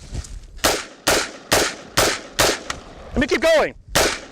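Five sharp gunshots ring out at a steady pace from a pistol fired after being submerged in mud with the dust cover closed, loud and close, with a brief spoken remark near the end.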